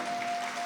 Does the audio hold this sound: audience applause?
yes